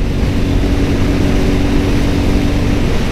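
A car engine roars loudly and steadily at speed as it accelerates through third and fourth gear, with a dense, unbroken drone up close and no voices.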